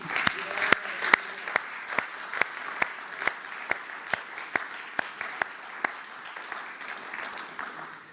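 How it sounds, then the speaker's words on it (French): Church congregation clapping along at a Christian event, sharp handclaps in a steady rhythm over a dense bed of crowd applause, fairly close and continuous throughout. "On peut applaudir le Seigneur"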